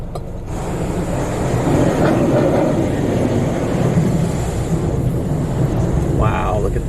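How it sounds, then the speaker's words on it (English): Hydraulics spin up on a Nu-Star Super Comet automatic car wash at Mudbusters Car Wash in Perry, Oklahoma, a steady broadband mechanical whir and hiss that sustains throughout, with a brief higher-pitched whine near the end. "You hear the hydraulics starting up."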